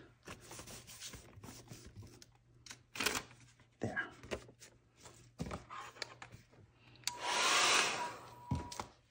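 A hair dryer blows over wet paint on collage paper with old maps in a mixed media abstract painting, a loud steady burst near the end after scattered rustling, handling noises and faint voice.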